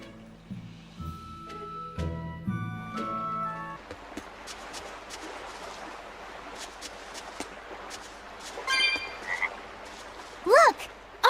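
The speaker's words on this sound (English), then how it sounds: "Look! A frog!" A frog croaks in the video game Tales of Berseria, in a seaside port town. Soft game music plays first, then a steady ambient bed, and near the end a few rising chirping croaks stand out clearly.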